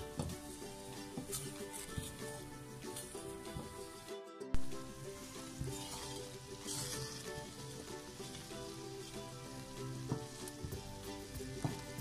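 Melted jaggery cooking over a low flame, giving off a faint, steady bubbling sizzle with small crackles and one brief gap in the sound.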